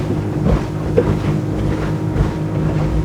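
A Whittley AL Series boat runs trimmed up high at 6,200 RPM, skipping across the water with a loud, steady outboard drone mixed with wind buffeting and hull slap.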